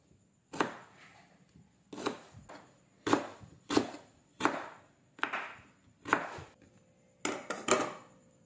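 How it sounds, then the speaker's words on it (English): A knife slicing ginger on a cutting board, eight separate sharp chopping strokes spaced about a second apart, the last two close together, near and clear with no talk. "Slice ginger."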